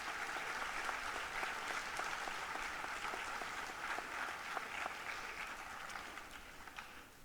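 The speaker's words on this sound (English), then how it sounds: "can we get a round of applause for the family behind us?" Steady applause from an awards ceremony audience honouring Phoenix police families, a dense even wash of many hands clapping that continues throughout and tapers slightly at the end, heard at a distance without speech.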